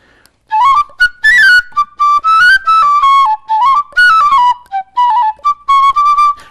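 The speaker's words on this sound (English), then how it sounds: "Sometimes they would have a whistle." A peddler's whistle plays a lively tune of bright, shrill notes in short melodic phrases with brief gaps, close and loud, with no voices.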